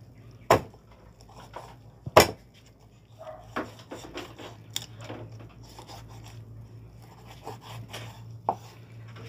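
A knife cuts through a dressed chicken breast with the skin still on, splitting it down the middle; sharp chopping knocks land twice near the start, followed by softer slicing and scraping strokes close by, with no talking.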